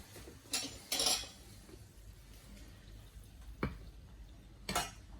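A pie batter of flour and baking powder is mixed in a bowl, giving a few separate scraping clinks of a utensil against the bowl amid quiet room tone.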